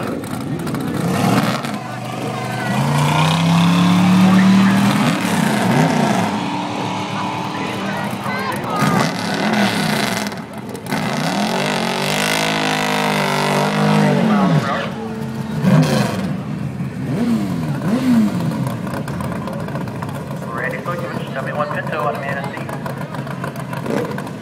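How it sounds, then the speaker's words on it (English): A 1971 Buick Skylark races at a drag strip, its engine revving and roaring in rising and falling waves, loud and fairly close, while an announcer talks over much of the run. "up now for Ben Sonia, 71 Buick Skylark"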